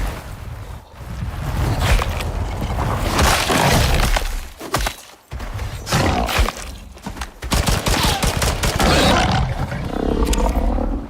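SMG gunfire in the survival game Icarus: loud, rapid bursts of shots mixed with a creature's deep roaring and crashing impacts, continuing almost without pause throughout.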